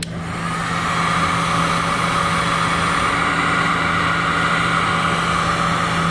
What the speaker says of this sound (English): I'm going to shrink it down with the heat gun.